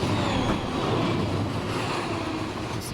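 A train in the RUN8 simulator rolls steadily along the rails with a continuous rumbling clatter, loud and close, with no talking.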